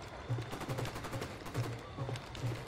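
Gunfire in Tom Clancy's Ghost Recon Wildlands: repeated bursts of automatic weapon shots in an uneven rhythm, fairly close and steady over the whole stretch, with no talk.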